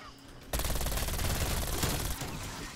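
Mac 10 submachine gun in the zombies mode of Call of Duty Cold War, a sudden near, very rapid full-auto burst starting after a quiet moment and rattling steadily for about a second and a half before stopping.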